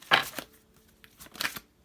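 Two brief papery riffles of tarot cards being shuffled, close and crisp, separated by a short pause.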